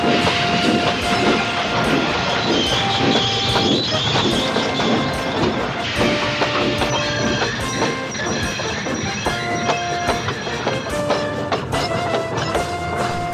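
A steam train chugs and clanks steadily, pulling a heavy load uphill with strain, with hissing steam, rhythmic wheel clatter and sustained mechanical tones throughout, loud and close.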